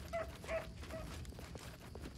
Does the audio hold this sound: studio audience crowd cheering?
no